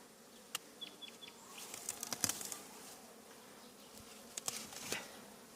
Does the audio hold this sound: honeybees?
yes